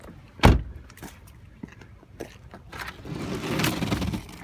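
Car doors on a 2017 Hyundai Elantra Limited opening and clunking, with a sharp latch thud near the start, several lighter clicks and a soft scraping rustle toward the end.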